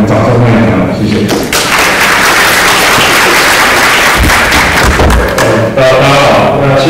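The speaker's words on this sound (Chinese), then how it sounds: "掌声欢迎他，谢谢" Loud sustained audience applause fills the room at a live g0v civic-tech talk on Taipei budget visualization, a dense continuous clatter of many hands with a few heavier thumps, running throughout.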